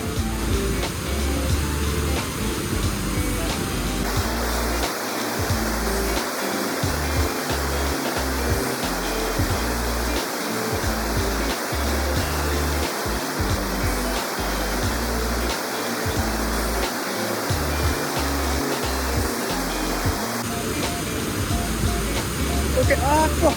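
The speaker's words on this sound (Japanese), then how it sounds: "すげえ滝の音してるけど" A waterfall roars beside a mountain stream during amago trout fishing, a loud, steady broadband rush that fills the whole stretch without a break, with faint voices now and then beneath it.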